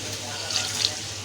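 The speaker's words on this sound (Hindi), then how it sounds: "हम हाफ कप अब इसमें पानी डालेंगे।" Half a cup of water poured into besan or suji halwa with sugar in a pan, a steady close splashing rush filling the whole moment without talk.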